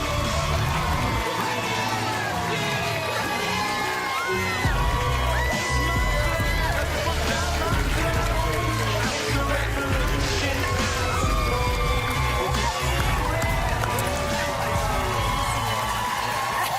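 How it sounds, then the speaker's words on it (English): A studio audience on a live daytime talk show cheers and whoops continuously as a celebrity guest comes out, a dense, loud wash of crowd noise with shouts and applause throughout. "Look at this enthusiastic crowd you got here"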